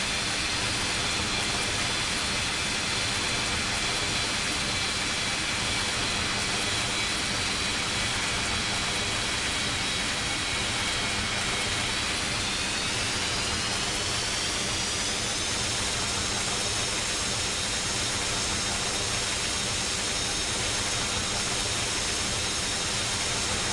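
Jet airliner engines, a Boeing 737 or Airbus A320 in the mobile game Unmatched Air Traffic Control, spool up for takeoff with a steady loud roar and hiss, their whine rising in pitch about halfway through.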